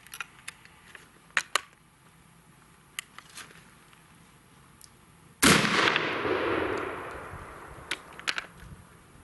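A .243 rifle firing a 100 grain soft point hunting round outdoors, one loud sharp crack followed by a long rolling echo that fades over several seconds, with faint clicks before and after.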